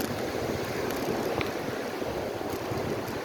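Ocean surf washing onto the packed sand of Fort Myers Beach, Florida, a steady broad rush of waves with wind across the microphone, continuous and fairly close.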